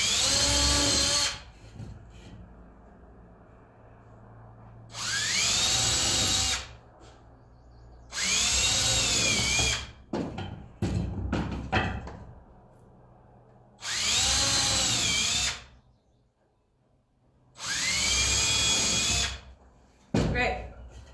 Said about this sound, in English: Okay, and I have one mark, so I'm going to start drilling.